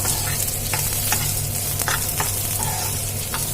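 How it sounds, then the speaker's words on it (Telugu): Onions and chillies frying in a teaspoon of oil for a dondakaya curry, giving a steady close sizzle with light stirring clicks and scrapes throughout and no voices. "ఇప్పుడైతే ఉల్లిపాయలు కూడా వేసేసుకున్నాను నేనైతే ఇప్పుడైతే ఒక టీ స్పూన్ ఆయిల్ అయితే వేసేసుకున్నాము"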